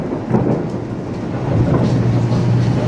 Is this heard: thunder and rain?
yes